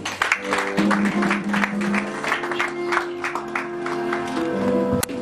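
A church congregation claps steadily and loudly throughout, with voices and a held musical tone underneath the dense applause.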